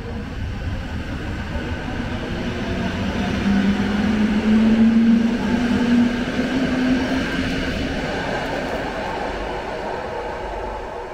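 Low, steady rumble of a train pulling away from Łódź Kaliska station, building gradually with a faint tonal whine in the middle, no voices.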